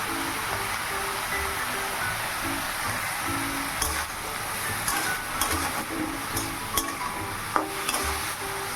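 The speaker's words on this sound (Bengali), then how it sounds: "শাপলা ভাজা চাপালাম শুকনো লঙ্কা আর সর্ষে ফোড়ন দিয়ে" Water lily stems fry in a pan with dried chilli and mustard seeds, giving a continuous close sizzle with scattered spatters and stirring scrapes, no talking.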